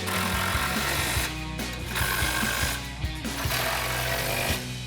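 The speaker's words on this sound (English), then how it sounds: "we'll grab our impact 18mm socket and tighten those down" Impact wrench with an 18mm socket driving nuts down on a front bumper install for a 2014-2015 Sierra 1500, loud continuous rattling hammering bursts with brief pauses between nuts, close up with no talking.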